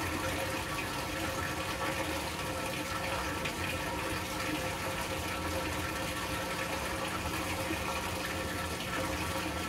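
Washing machine on a short mixed cycle with three pairs of jeans and three large bath towels, a constant dense wash of churning water and sloshing, steady and close, with no voices.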